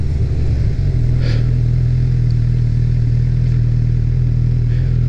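A 2018 Honda CB1000R motorcycle rides along with a steady, loud low engine drone, a brief rev change near the start, then a constant cruising hum with wind rush.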